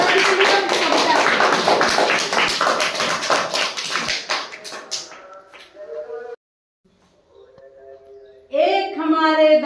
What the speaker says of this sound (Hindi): चलिए आप लोग तालियां बजाइए दादा जी के लिए कविता